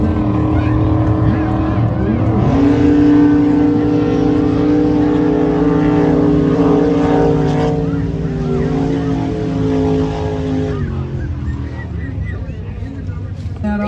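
Loud roaring racing boat engines with a droning, rising pitch as the boats sweep past close by at a boat race, their whine swelling then fading, with crowd noise underneath.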